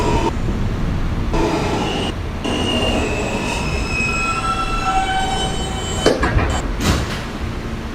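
Manhattan-bound NYC subway F local train running near Sutphin Boulevard, a loud steady rumble of wheels on rails with squealing tones and clatter, heard from inside the car.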